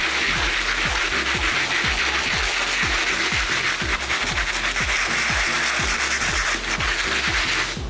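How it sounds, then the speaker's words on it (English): A stiff bristle brush scrubs the soles of Timberland boots in fast, rhythmic strokes, a loud, continuous scratchy rasping close up. "we're gonna hit this with a stiff bristle brush or a harder brush for the bottoms, just to give it a light clean"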